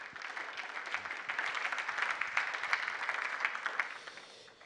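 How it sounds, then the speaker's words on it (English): An audience at a televised budget forum in Ghana claps for an arriving guest. Many hands build to a full, bright round of applause, then it thins and fades toward the end. "let's put our hands together for Dr. Kojo Mensah Abrampa"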